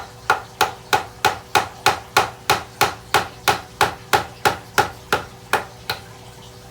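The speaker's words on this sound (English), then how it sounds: "the Malaysian driftwood is extremely dense, so it's not the easiest thing to hammer a nail into or a staple" A hammer drives a nail into dense Malaysian driftwood in a steady rhythm of about fifteen sharp, evenly spaced blows, close and crisp, with a single short spoken word.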